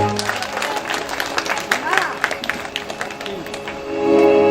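Clapping from an audience at a devotional jagran, uneven and mixed with crowd noise, with music and voices audible over and around it.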